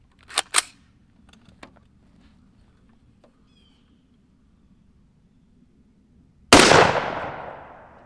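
A single sharp, loud .223 rifle shot from a 7.5-inch-barrel Palmetto State Armory home build rings out and decays quickly, preceded by a few faint mechanical clicks and near-silence.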